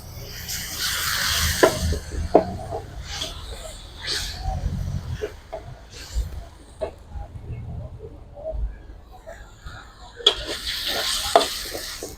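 Beef curry paste is stir-fried in a pan with a little water and scraped by a spatula in irregular bursts, sizzling loudly at the start and end and falling quieter between.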